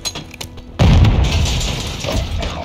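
A grenade detonates in Modern Warfare 2 gameplay: quiet game ambience, then a sudden loud booming blast that stays heavy and rumbling, trailing into a long noisy decay of debris.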